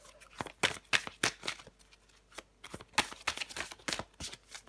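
Tarot cards being shuffled and drawn in quick riffling bursts, close and crisp, with short pauses between the flurries of card snaps.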